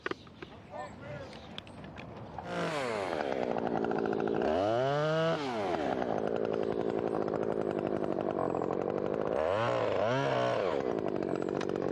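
A chainsaw runs loud and steady close by while cutting a tree limb during rigging work, its engine pitch dipping and rising as it bogs into the wood, with people talking briefly at the start.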